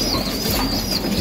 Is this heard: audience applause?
no